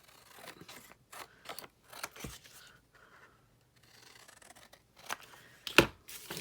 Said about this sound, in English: Have to cut it a little bit.